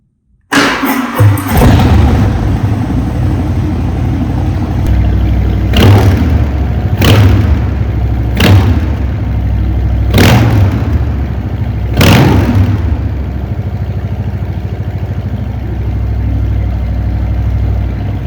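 A 2020 Harley-Davidson FXDR 114 motorcycle starts with a sharp crank, then settles into a deep, loud, rumbling idle punctuated by several sharp throttle blips roughly every one to two seconds.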